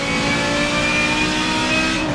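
An Audi turbo engine in the racing game Forza Motorsport 7 revs hard and steadily, a loud, close, continuous mechanical roar with no pauses.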